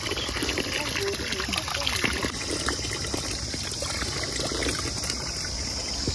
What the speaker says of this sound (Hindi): ये देखिए पानी का चश्मा, बिल्कुल नेचुरल वाटर, बिल्कुल अच्छा पानी होता है यहाँ पे